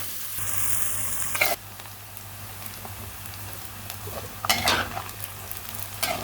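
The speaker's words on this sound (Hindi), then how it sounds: "अब हम इन दोनों चीज़ों को अच्छी तरह से फ्राई कर लेंगे" Onions and another ingredient frying for Delhi biryani, a steady close sizzle with occasional scraping stirs, alone without talk.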